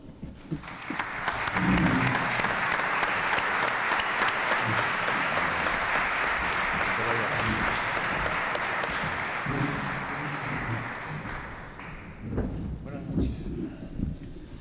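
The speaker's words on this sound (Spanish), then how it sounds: "para que yo pido un aplauso grandísimo" Sustained applause from a large crowd, rising quickly and holding strong for several seconds before tapering off, with a voice speaking near the end.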